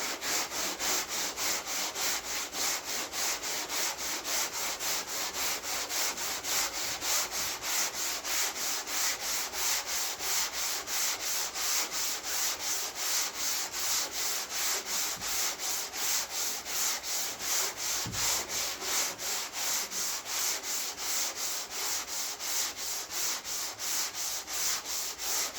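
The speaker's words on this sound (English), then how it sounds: "so let's start sanding around it" Steady rhythmic rasp of hand-sanding soft body putty on a Nissan car panel during restoration, a continuous near scraping stroke repeated at an even pace for the whole stretch, with no talking.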